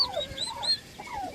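Turkeys on a farm gobble in a quick burst of warbling, descending calls, several birds overlapping at moderate distance and fairly faint, with no talking.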